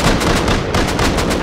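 Gunfire in the video game Rust comes as a dense, loud burst of rapid shots, close and continuous for the whole moment, with no talking over it.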